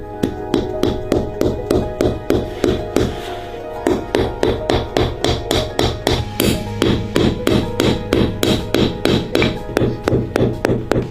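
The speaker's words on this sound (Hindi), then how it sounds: "यहाँ के लोग जरूरत पड़ने पर जमे हुए फलों को हथौड़े की तरह भी इस्तेमाल कर सकते हैं।" Frozen fruit used as a hammer in the bitter cold of Yakutia, striking a steady run of sharp, loud, evenly spaced blows, a few per second, with a short pause near the start and no talking.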